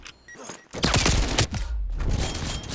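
Call of Duty: Black Ops Cold War gunfire comes in loud, close bursts of rapid shots, with a short lull between the volleys.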